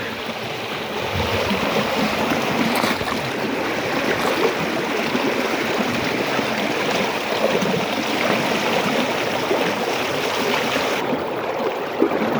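Water rushes and gurgles continuously through a pipe beneath a washed-out road by a river, a loud, steady broadband roar that holds unchanged for the whole stretch, with no voices.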